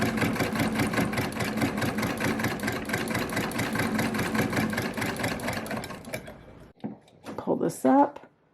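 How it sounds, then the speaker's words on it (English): An antique 1910 National Paveway sewing machine stitching steadily, a fast even mechanical chatter for about six seconds before it stops, followed by brief handling noises and a short voice. "give the wheel a tug and start stitching."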